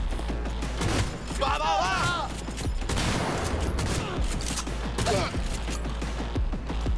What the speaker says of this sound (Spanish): Vamos a probar un poco la escopeta